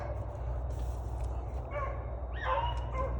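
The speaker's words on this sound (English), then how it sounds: "When that dog started busting wood constantly like that, he's running that rabbit" A hunting dog out on a rabbit chase in the woods gives a few yips and barks at a distance, faint against a steady outdoor background.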